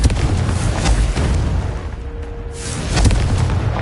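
A Confringo explosive spell blast in the Hogwarts Legacy video game erupts as a loud, sustained booming burst that stays dense and full throughout, swelling again near the end, with no talk.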